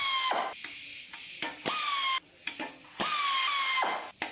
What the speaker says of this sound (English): remove all the 10mm bolts that are around it